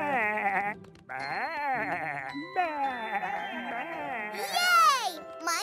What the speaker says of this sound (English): Quick, I can hear a sheep.